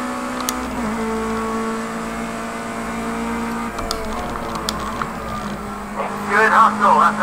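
Ginetta Junior race car engine in the racing game Project Cars 2, a steady engine drone with shifting pitch that swells louder near the end, with a voice talking over it.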